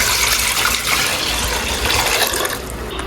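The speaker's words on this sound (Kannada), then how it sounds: "ಒಂದು ಪಾತ್ರೆಗೆ ನೀರು ಹಾಕೊಳ್ಳಿ" Water pours steadily into a vessel in a home kitchen, making a close, rushing gush that stays even for a few seconds and eases slightly at the end, with no voices.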